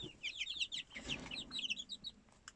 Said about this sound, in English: just had a bunch of little baby chicken chickies